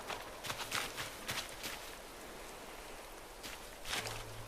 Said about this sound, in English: You little guys get out of the rain.